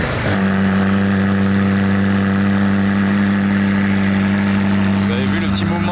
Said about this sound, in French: La 600 LT bah tiens, qui va démarrer, donc bon timing.